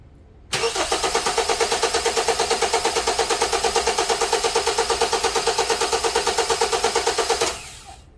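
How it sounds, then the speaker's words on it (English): Car engine cranking on the starter during a starting-system voltage drop test, a steady rapid rhythmic churning that starts abruptly, runs for about seven seconds, then stops without catching. "So if we crank the engine, watch the measurement."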